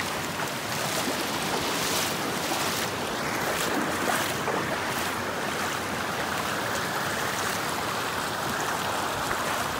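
Wading across a mountain river stream in sneakers: continuous loud rushing, splashing water close by, steady throughout with no talking.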